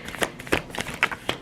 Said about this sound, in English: I'm going to put that back in and shuffle a little bit more.